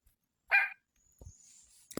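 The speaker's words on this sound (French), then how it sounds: "Un petit aboiement se fait également entendre en provenance du vestibule" A small dog in a hallway gives one short, sharp bark, followed by faint scuffling and a brief high whine, with a final clipped yip, all in the I-Dolls video game.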